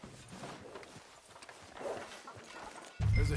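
Horse hooves clip-clop in Red Dead Redemption 2, a steady walking rhythm of moderate loudness that runs through the clip before a louder burst of sound near the end.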